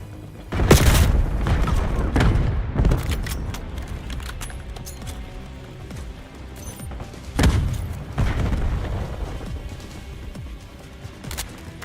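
Explosions and gunfire in a first-person shooter video game, including a frag grenade blast; heavy booming bursts hit near the start and again later, with clattering impacts and rumbling decay between them.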